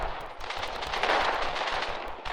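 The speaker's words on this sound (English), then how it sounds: "I'd imagine that AT half-track is firing on infantry as well" Anti-tank half-track firing in a video game battle: dense, continuous rattling gunfire with overlapping shots, loud and constant throughout, no voices.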